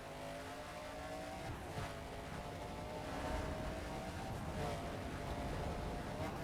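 Race car engine in the Soapbox Race World driving game, a steady droning roar with shifting revs and faint tire noise, running continuously at moderate level with no voices.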